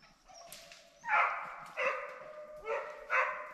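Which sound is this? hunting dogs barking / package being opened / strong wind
hunting dogs barking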